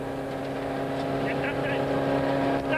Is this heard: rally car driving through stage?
yes